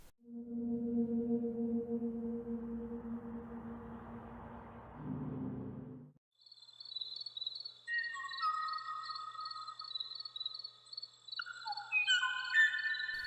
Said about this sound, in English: this just might sound like a normal peaceful bird song